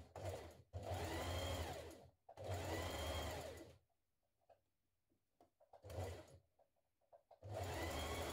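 A sewing machine stitches the back gusset of homemade underwear, running in three loud bursts of steady whirring separated by pauses filled with faint handling clicks.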